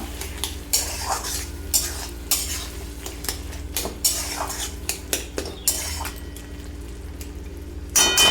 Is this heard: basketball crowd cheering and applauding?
no